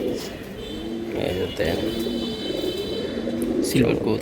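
Light-coloured silver pigeons, Giribaz and Gola breeds, cooing softly in low repeated calls close by while someone talks over them.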